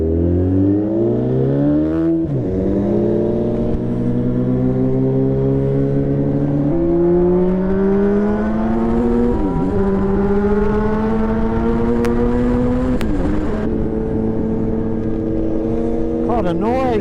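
Honda motorcycle engine, a custom Fireblade or Honda CBX 1000, heard on a test ride, loud and close, pulling up through the gears with rising pitch and brief dips at each shift, with a rider talking over it.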